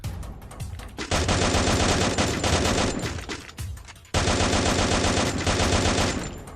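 Rapid automatic gunfire from the mobile battle royale game Free Fire, loud dense bursts lasting most of the clip with a brief break near the middle, no talking.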